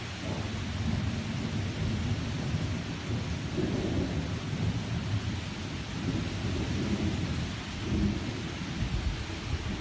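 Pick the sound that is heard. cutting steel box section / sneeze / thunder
thunder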